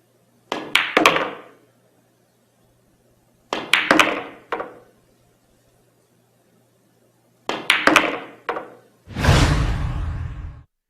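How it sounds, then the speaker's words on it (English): Pool cue strikes for a stun shot on the 6 ball: three clusters of sharp, close clacks a few seconds apart, each a quick cue tap and ball impact, followed by a longer rolling rumble as a ball drops and runs through the table. "The shot is performed by striking the cue ball just below center."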